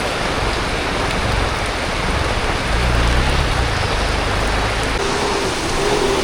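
Heavy rain pours at a Konkan Railway station in the early morning, a dense, steady hiss of water with no break, and a faint low rumble swells briefly midway through.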